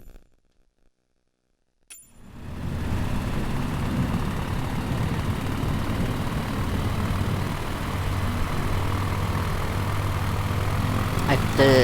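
A propeller aircraft engine in Microsoft Flight Simulator 2020 starts after a near-silent opening and settles into a loud, steady drone that holds to the end.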